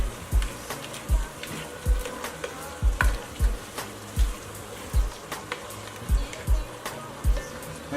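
Vegetables and garlic sizzle steadily in a pan, while a utensil scrapes and knocks against it in a regular stirring rhythm about twice a second, close and clear.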